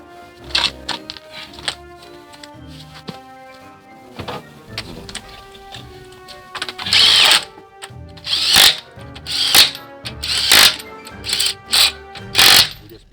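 Impact gun snugging lug nuts on a Cadillac during a front brake and rotor job; loud, close buzzing bursts repeat in a steady series, following earlier clicks and clatter.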